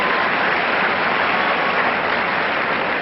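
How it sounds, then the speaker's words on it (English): Steady, dense applause fills a tennis stadium at the 1995 US Open during a men's third-round match, a close, even wash of clapping from a large crowd with no voices on top. "And the crowd appreciates it."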